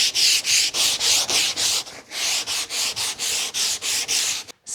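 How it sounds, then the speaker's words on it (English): Hand sanding of a wooden climbing hold gives steady, rhythmic rasping strokes, about a dozen loud close back-and-forth passes with brief gaps between them, with no voices. "I'm going to sand this down by hand."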